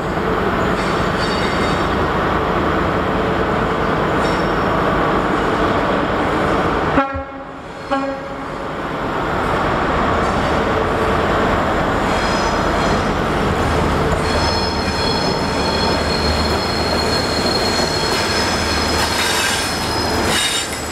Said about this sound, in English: the sight of a full-size HST leaving London Paddington